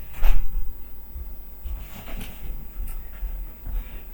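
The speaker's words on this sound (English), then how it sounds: "My door's blowing open." A door blowing open in the wind at home, with a soft thump near the start followed by low rattling and knocking bumps spread through the rest.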